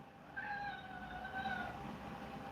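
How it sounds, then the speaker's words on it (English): A cat meows a few times in drawn-out, wavering calls over a low background rumble, faint and somewhat distant. "I'm sorry, it's my cat meowing."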